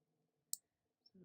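A single sharp computer mouse click sounds in a quiet room during editing in iMovie, followed by a fainter tick and a brief murmur of voice.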